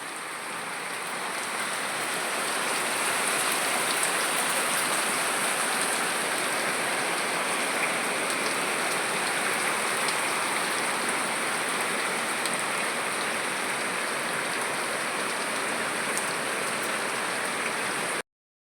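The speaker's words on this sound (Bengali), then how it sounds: "অনবরত বৃষ্টি দিতেই আছে।" Steady, heavy rain pours down without pause during a flood, a dense broadband hiss that holds at an even level for the whole stretch with no voices, only a faint rush of flowing water beneath it.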